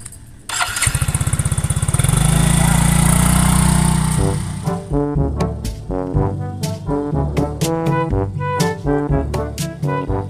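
A new motorcycle's engine starts and revs loudly up close, then gives way to rhythmic music with a heavy beat over the rest of the stretch.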